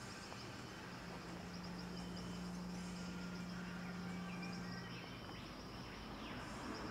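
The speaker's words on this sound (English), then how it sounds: "I've got the window open and there's a couple of trees just outside my house, and the birds are chirping there" Faint, distant birds chirping in trees outside an open window, thin scattered calls over a steady low hum and background noise, with no voices.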